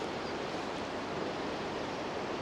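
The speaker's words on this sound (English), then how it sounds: "the raging river that goes through Cahir" A raging river rushes through Cahir, Ireland, as a steady broadband roar of churning water, continuous and moderately distant, with no voices.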